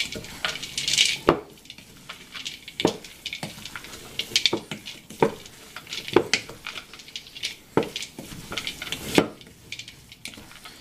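Pine nuts being mixed into a chicken and sage filling, with repeated spoon scrapes and knocks against the bowl at irregular intervals, close and fairly quiet with no talking.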